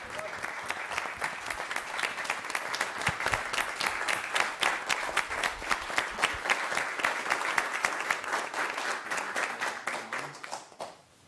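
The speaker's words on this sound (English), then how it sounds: "give Ms. Copeland a round of applause, please" Warm audience applause for Ms. Copeland at a live-streamed community gathering, steady and fairly close, with rapid overlapping claps sustained for about ten seconds before tapering off.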